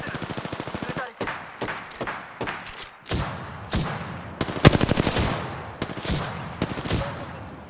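Rapid bursts of automatic gunfire from an Apex Legends firefight, loud and close, with short stuttering volleys separated by brief gaps and a few heavier single shots.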